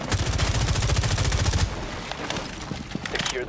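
Gunfire in Rainbow Six Siege, a rapid automatic burst of evenly spaced shots for about a second and a half, followed by scattered quieter single shots and clatter.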